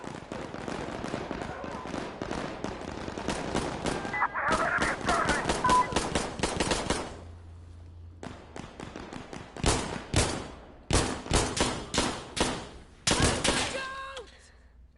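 Rapid bursts of gunfire from an Insurgency Sandstorm console match, loud and close, with dense automatic volleys early on, a brief lull, then sharp spaced shots and short bursts toward the end.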